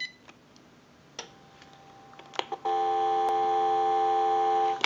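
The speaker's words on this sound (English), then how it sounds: "Now what we can do is go ahead and give you some dial tone" Steady dial tone from a General Electric 27909 cordless telephone, switching on abruptly after a few faint clicks and holding loud and continuous to the end.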